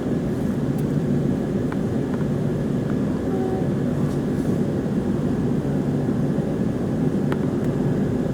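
HCMT high-capacity metro train running between Flinders Street and Dandenong, a steady, loud, continuous rumble of traction and wheels from on board, with faint squeaks and tones.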